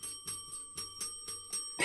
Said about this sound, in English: I'm gonna give a bell to Peter, because Peter just came in